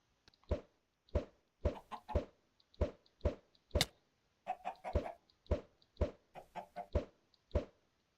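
Chickens cluck in the Minecraft video game, a series of short, sharp clucks repeating in irregular bursts throughout, fairly close and clear with no talking.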